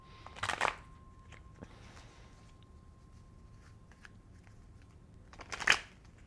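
A deck of oracle cards is shuffled in two short riffling bursts at the start and end, with quiet stillness in between.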